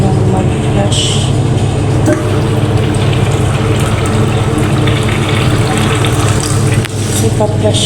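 A toilet flushes with a steady rushing gush of water, running loud and close as a continuous stream over a low droning hum, with a few brief clanks along the way.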